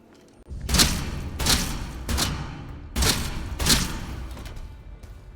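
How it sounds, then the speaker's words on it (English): A shotgun fires in the video game Atomfall: five loud, booming blasts in quick succession, each spaced under a second apart, with short decaying tails between shots. "Let me just use a shotgun on this guy."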